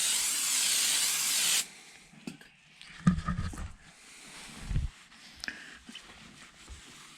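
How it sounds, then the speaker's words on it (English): Brake cleaner sprayed onto a car fender before painting: a loud, steady aerosol hiss close by that cuts off sharply after about a second and a half, followed by faint handling noises and light knocks. "now I'm going to go over it with the brake cleaner."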